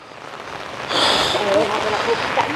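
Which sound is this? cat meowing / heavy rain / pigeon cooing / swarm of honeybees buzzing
heavy rain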